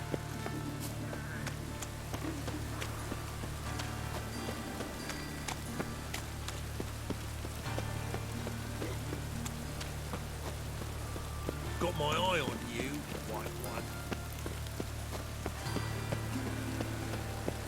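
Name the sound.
rain falling in a video game (Gwent)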